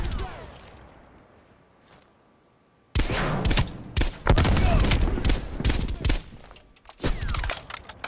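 Heavy automatic gunfire and a fusillade of shots from the Call of Duty Black Ops Cold War video game, loud and close after a quiet opening, with dense bursts and occasional booms continuing to the end.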